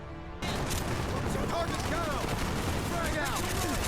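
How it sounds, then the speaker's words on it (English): Continuous rapid gunfire from soldiers in the shooter game Call of Duty: Black Ops, loud and dense throughout with game sound effects layered over it. "you continue on shooting through more soldiers"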